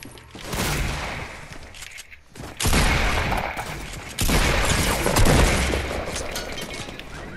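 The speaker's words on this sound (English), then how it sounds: "I headshotted the guy that was shooting at you" Bursts of automatic gunfire rattle in a shooter video game, loud volleys broken by a brief pause near the middle, with no talking.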